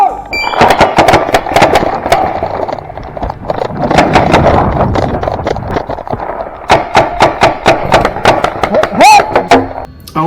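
Paintball markers firing during a paintball game, bursts of rapid sharp pops, loud and close, in quick volleys with a short lull in between.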